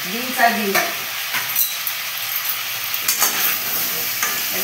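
A spoon stirring a pot of chicken stew with potatoes, carrots and whole onions, giving a few scraping knocks over a soft bubbling sizzle, close up with no talking.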